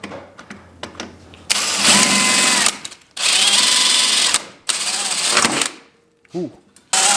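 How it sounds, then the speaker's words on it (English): A power drill drills out a rivet on a 2022 Lynx snowmobile, whining loudly in several long bursts, stopping and restarting between short pauses, with brief clicks and handling noise around it. "So we're just going to drill this out."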